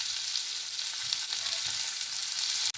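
Fish fries in hot oil in a pan for a beach-style fish fry, giving a steady, close hiss and crackle of sizzling that ends with a short clunk.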